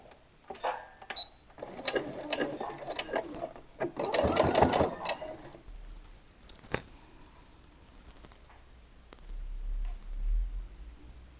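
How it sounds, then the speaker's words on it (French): Sewing machine stitching a fabric band for a summer dress, running in quick rhythmic bursts with a louder stretch in the middle, then quieter pauses with a sharp click and a low hum. "Je couds à l'envers et après nous allons retourner notre bande."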